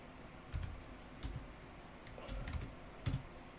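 Several soft keystrokes on a computer keyboard, quiet clicks in small bursts across a few seconds in an otherwise calm room.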